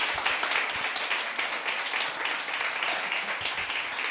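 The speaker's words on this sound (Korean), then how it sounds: "힘차게 박수하면서 모시겠습니다" A Sunday worship congregation gives a lively round of applause to welcome a guest professor, a dense, even wash of many hands clapping with no voices over it.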